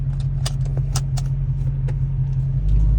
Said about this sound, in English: Let me give y'all some revs.